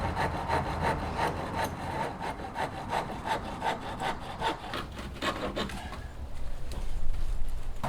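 A hand saw cuts through the bottom of small wooden fence legs outdoors, a steady back-and-forth rasping stroke repeating quickly and close by, then shifting to a rougher, louder grind near the end.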